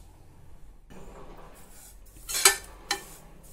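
Cumin seeds are stirred in a pan after low-flame heating, giving soft scraping, then a sharp metallic clink and a second fainter clink near the end, fairly quiet overall.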